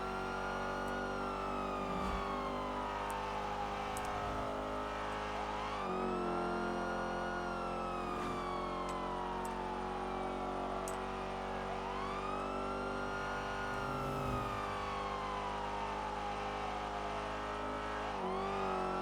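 A car engine in a video game drives fast, droning loud and continuously as its pitch climbs and then drops at each gear change, repeating in long sweeps with no speech.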